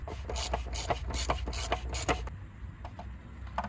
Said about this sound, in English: tighten the cap. It's supposed to be tightened to 25 Newton meters, but you can do it with just a regular wrench or ratchet